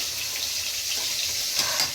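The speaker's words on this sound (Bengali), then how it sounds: "এখানে মাছগুলো ভাজা হচ্ছে" Fish fries in a pan at home, giving a steady, moderately loud hiss and sizzle, close by, with faint crackles and no talk.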